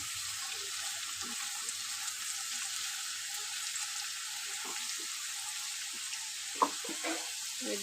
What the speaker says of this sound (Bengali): দেখো বন্ধুরা আলুটা হালকা ভেজেছি বেশি ভাজবো না